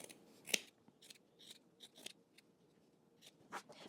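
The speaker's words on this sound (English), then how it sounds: "I want you to go ahead and clip into your curves, trim your corners." Scissors snip into fabric seam allowances, clipping curves and trimming corners in a sewing project; a string of quiet, close, irregular crisp cuts, one sharper near the start, with no speech.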